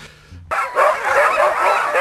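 Sled dogs pulling a wooden sled held together with string bark excitedly and yip close by, a sudden burst of overlapping barks after a brief quiet start.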